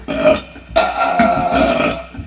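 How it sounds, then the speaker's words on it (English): A single loud, drawn-out burp from a man trading belches with his son, starting strong, breaking briefly near the half-second mark, then rumbling on for over a second before fading. "My burp kicked your burp's ass"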